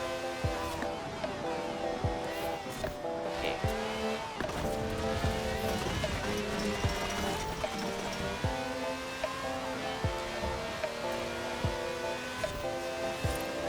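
A Lamborghini Aventador races in Forza Horizon 4, its engine whine rising and shifting through gears in a steady roar, with tire noise and occasional squeals, fairly faint and continuous.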